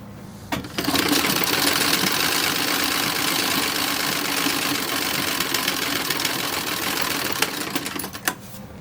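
A sewing machine runs steadily for several seconds, stitching the collar of a 1930s–1940s style toddler romper, its fast motor hum and rapid needle chatter close and continuous before stopping.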